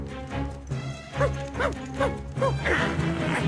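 A small cartoon dog gives a quick run of about four high, yipping barks in a steady rhythm over a busy animated soundtrack.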